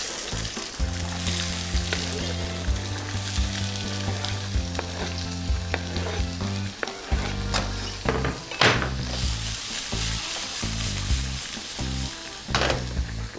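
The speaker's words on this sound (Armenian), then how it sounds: "իսկ մենք միասին տապակենք կարմիր պղպեղը" Red peppers fry in a pan with a steady, close sizzle, broken by stirring and a few sharp clinks of utensils against the pan. No one talks.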